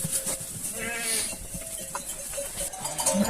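Sheep and lambs bleat on a farm, several calls scattered over a continuous rustling, mid-distance background with no talk.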